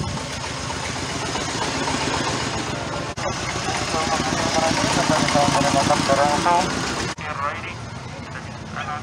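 A tractor pulling a passenger tour wagon around a dairy farm runs at a steady idle throughout, a low rumbling drone with voices mixed in beneath it.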